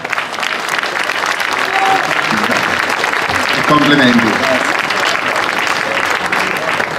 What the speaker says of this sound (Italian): lo inviterei qua con il vostro applauso.